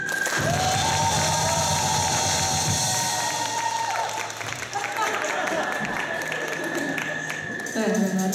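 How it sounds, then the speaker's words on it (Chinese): Applause and cheering rise from an audience at a live comedy show in Taichung, a dense crowd wash that carries on for several seconds with some tonal sounds running through it. "那最后就是请大家再给阿坤一个掌声，好不好？"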